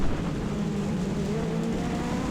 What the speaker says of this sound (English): just coming up to a pack of cars here